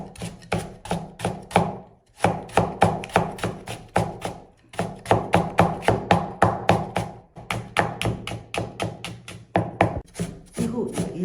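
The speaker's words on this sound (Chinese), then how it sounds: "胡萝卜也给它平切一刀，然后再给它切成片。 切好之后，我们再给它切成丝" A knife chops carrot on a cutting board, first into slices and then into fine shreds. The knife strikes come in fast, steady bursts with a few short pauses between them, close and clear, and nobody speaks.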